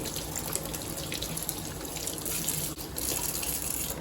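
Tap water runs steadily over potatoes being rinsed, a close, even gush filling the sink with no break and no talking.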